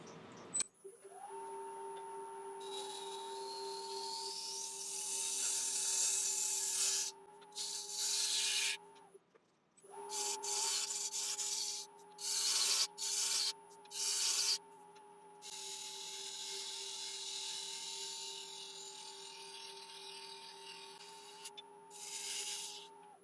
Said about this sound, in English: I might just take my scraper and just refine this curve just a little bit. Just a little 1-inch scraper.